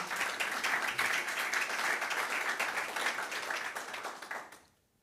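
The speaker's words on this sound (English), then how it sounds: "Well, that deserves an extra applause." Audience applause at a tech conference on a studio stage after a live coding demo, a dense steady wash of many hands clapping that holds for several seconds and then quickly fades out.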